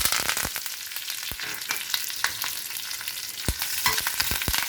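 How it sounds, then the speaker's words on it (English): Curry leaves dropped into hot oil with spluttering mustard seeds for sambhar tempering, crackling in a dense, continuous close sizzle broken by sharp pops, with no voices. "I am adding in the curry leaves"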